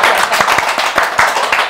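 Applause for a studio guest on a talk show, a short burst of a few people clapping in a loose, uneven rhythm, close and fairly loud.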